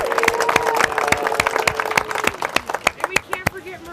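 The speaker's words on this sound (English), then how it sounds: "I want to give all of the participants a round of applause" A crowd at a sand sculpture contest applauds the participants, with dense clapping that thins into scattered individual claps, while a voice speaks over the start.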